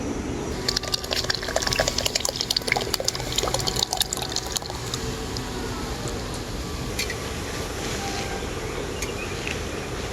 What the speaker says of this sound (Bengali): এখন আমি ছাঁকনিতে করে ছেঁকে নিয়ে আমের জুসটা দিয়ে দেবো এর মধ্যে